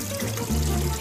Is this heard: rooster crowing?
no